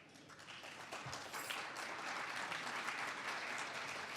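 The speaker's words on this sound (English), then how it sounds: "please give them a round of applause" A crowd applauds, continuous clapping that swells slightly and holds steady throughout.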